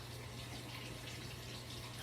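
About three cups of water pour steadily from a tap into a pot for Southern collard greens, a constant soft rushing with no pauses.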